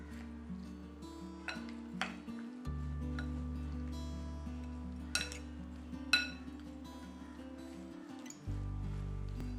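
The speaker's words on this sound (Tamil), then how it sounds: "இதை நல்லா மிக்ஸ் பண்ணிடலாம்" Cucumber salad tossed in a bowl with a utensil, scattered clinks and scrapes over a steady low hum, a few sharper taps standing out, no voices.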